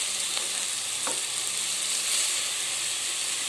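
Vegetables sautéing in a pan ahead of the tomatoes give a steady, close sizzle and hiss, with a couple of soft stirring scrapes and no voices.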